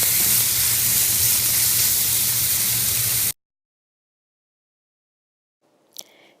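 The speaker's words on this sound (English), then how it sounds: "So I sear it on one side, leaving it on high, flip it over while it's still on high." A dry-aged grass-fed ribeye sears on high heat in a pan, giving a loud, steady broadband sizzle and hiss for about three seconds, then it cuts to silence, followed by a faint brief clatter near the end.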